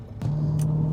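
A B7 Audi RS4 4.2 V8 Quattro, a Stage 1 car, settles into a steady low engine rumble after a short quieter start, close and constant with no talk over it.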